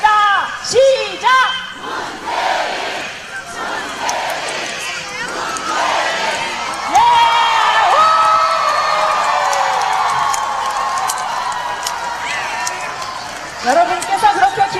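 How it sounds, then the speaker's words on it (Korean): Large outdoor Korean election rally crowd chanting and cheering the name Moon Jae-in, loud massed voices surging in repeated waves that swell and sustain, with shouts and whoops mixed in. "문재인 세 번 연호하겠습니다."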